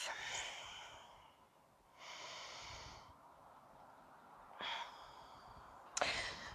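A yoga instructor takes several big, deep breaths while settling into a squat, with a few distinct breathy inhales and exhales standing out close to the microphone against a quiet room.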